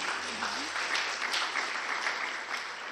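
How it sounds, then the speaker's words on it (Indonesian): Congregation applauding the multimedia team during a Sunday church worship service, sustained dense clapping filling the hall at a steady level throughout. "Boleh dong tepuk tangan untuk tim multimedia."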